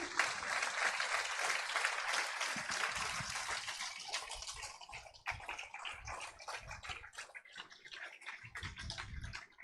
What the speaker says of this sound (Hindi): और एक बार जोरदार तालियां